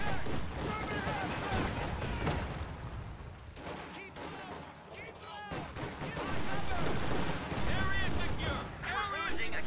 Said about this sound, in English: Terrible flak burst.